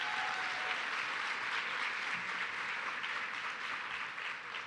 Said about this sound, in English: if you guys enjoyed Dr. Brown, just let me hear it by a round of applause.